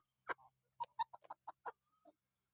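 Bantam chickens cluck softly in short, separate bursts while eating, about eight close, quiet calls spaced irregularly against otherwise silent surroundings.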